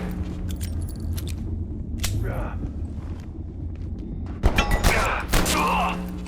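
Gunfire in the video game Abiotic Factor: scattered sharp shots with a bright burst of rapid firing near the end, mixed with footsteps and game noise.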